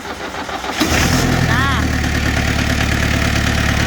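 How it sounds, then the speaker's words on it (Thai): An old 1990s Isuzu C190 truck engine cranks and catches, then settles into a loud, steady diesel idle that rumbles on; a voice briefly speaks. "ตอนนี้ติดเครื่องยนต์เรียบร้อยแล้ว"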